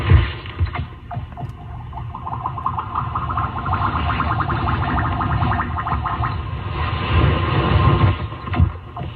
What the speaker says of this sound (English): That's the sound of stones skipping across the ice.